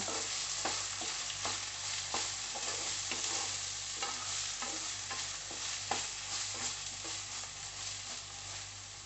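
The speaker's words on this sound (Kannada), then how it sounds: "ಫ್ರೈ ಮಾಡ್ಕೋಗ." Ingredients for a Tulu-style salted jackfruit dish fry in a pan, a steady soft sizzle broken by regular scraping strokes of a spoon stirring, with no voices.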